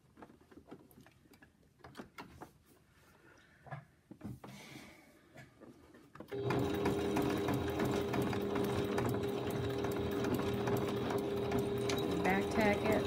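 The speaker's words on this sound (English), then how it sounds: "stitch across it on the other side" A sewing machine stitches across a potholder's binding loop, starting after some quiet handling and clicks, then running as a steady, close, continuous whir with a constant mechanical hum.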